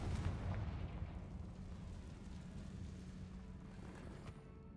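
A Confringo spell blast in the Hogwarts Legacy video game, a deep rumbling explosion that booms at the start and then rolls on as a sustained low roar, fairly quiet overall.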